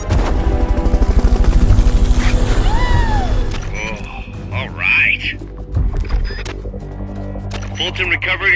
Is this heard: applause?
no